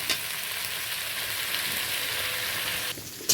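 Vegetables lightly frying in a pan over a clay village stove make a steady, dense sizzle that holds evenly, then drops briefly near the end before a sharp clatter.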